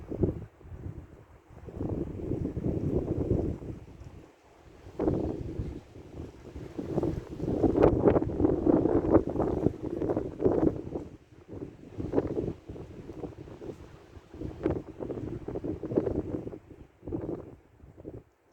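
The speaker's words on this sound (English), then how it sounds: "the wind picks up" Wind blowing hard outdoors, buffeting the microphone in loud rumbling gusts that rise and ease over many seconds, with no talk.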